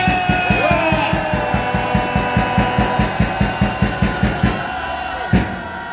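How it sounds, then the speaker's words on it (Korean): A crowd at a political rally claps in fast, steady unison, with loud rhythmic beats over a wash of cheering voices that ends in a final burst. "뜨거운 박수와 함께 영광의 함성 3초간 박수!"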